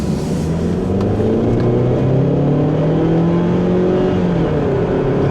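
A 2011 Hyundai Sonata 2.0 turbo accelerates hard, its engine note climbing steadily in pitch through the gears with a loud, continuous drone and rushing road noise, heard from inside the car with no talking.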